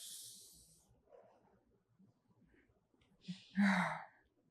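Breathing exercise: a long hissing exhale opens, then after a quiet pause a quick sniffing inhale and a forceful, breathy blow out, close to the microphone.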